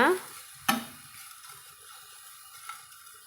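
Manathakkali spinach greens wilt in a pan, one sharp utensil clack at the start and then a quiet, thin sizzle with faint stirring.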